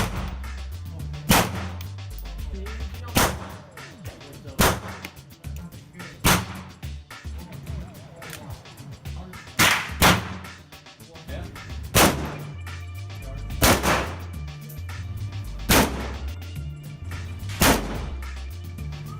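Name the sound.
guns being fired at a shooting range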